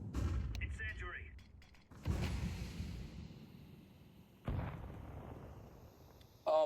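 An incendiary grenade going off in a tactical shooter video game, sharp bursts at about two, four and a half and six and a half seconds, each trailing into a low burning rumble, with a voice briefly speaking at the start.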